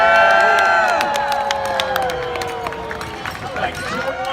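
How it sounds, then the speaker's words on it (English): Spectators at a Renaissance faire joust cheer and shout for the knights. The roar is loudest at the start and eases to scattered whoops and calls. "Cheer your knights!"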